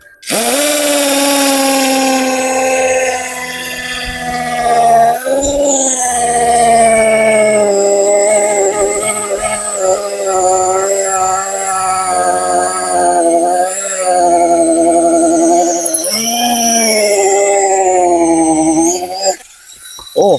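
A TAXUS BULL TX 9633 hammer drill, a three-mode impact drill rated at 55 Nm, bores into concrete with a worn 10 mm bit. It gives a loud, continuous high whine that wavers in pitch as the bit is pushed down, then cuts off near the end.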